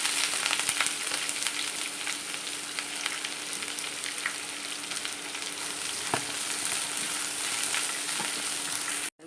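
Onions frying in coconut oil with cinnamon and coconut pieces for a chicken curry, a steady close sizzle with occasional stirring clicks, continuous until it cuts off at the end.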